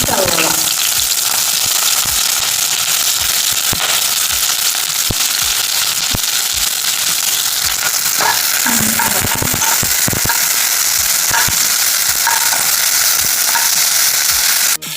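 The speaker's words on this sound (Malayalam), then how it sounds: "എണ്ണ നന്നായി ചൂടായിട്ട് നമുക്ക് ഒരു സവോള എടുത്തിട്ടുള്ളൂ." Onion fries in hot coconut oil in a pan, a loud continuous sizzle with occasional clinks and stirring scrapes throughout.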